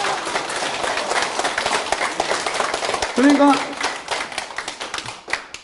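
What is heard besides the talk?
clapping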